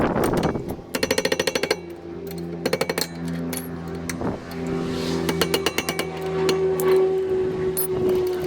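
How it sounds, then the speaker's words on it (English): A power tool loosens the rear brake caliper bolts on a 2008 Saturn Aura XR. It fires in several short, loud, rattling bursts, with quieter mechanical handling between them. "Okay, so now I'm going to be removing these two caliper bolts"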